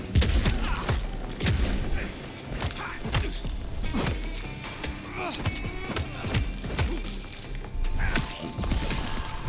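Shotgun blasts and other gunfire in the video game Vampire the Masquerade Bloodlines 2 come as repeated sharp bangs amid dense combat noise, loud and close throughout.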